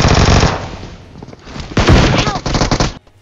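Gunfire in the mobile battle-royale game BGMI, with rapid loud shotgun-style blasts in clustered bursts, close and punchy, followed by a few scattered shots before cutting off.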